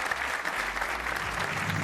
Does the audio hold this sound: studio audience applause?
yes